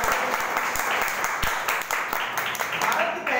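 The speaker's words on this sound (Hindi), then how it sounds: "तो एक बार जोरदार ताली।" An audience applauds at an Ayurveda company's business seminar, a dense, continuous burst of many hands clapping at once, loud and close, with no voice over it.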